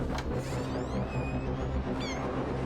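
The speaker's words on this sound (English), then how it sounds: "Don't you dare hurt that cat." A cat meows in the animated series Creature Commandos, high wavering cries heard twice over low background music and rumble, moderately quiet.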